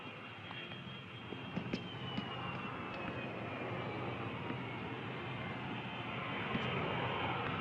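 An airplane engine hums as a continuous low roar with a steady high whine, fairly faint and distant, with a few small clicks over it and no speech.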